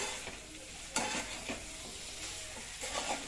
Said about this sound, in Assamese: এতিয়া আদা নহৰু দি লৈ অলপ সময় ভাজি লওঁ